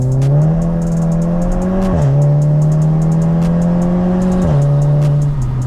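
A Seat Leon Cupra with a stage 2 tune accelerates hard, its loud engine note climbing steadily through two gear changes, heard from inside the car.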